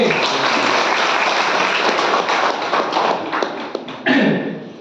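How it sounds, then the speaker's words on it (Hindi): An audience claps together at an indoor health session, giving a dense, steady wash of applause that stays loud for several seconds, then turns into scattered claps with a final burst before fading. "जोरदार तालियां बजाइए।"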